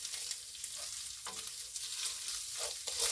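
Home-canned ground beef browning in a pan, a soft, fairly quiet sizzle broken by a few scraping and stirring strokes, with no one talking.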